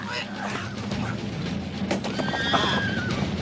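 A horse whinnies loudly in a rising, wavering neigh, with hoof clatter and commotion around it.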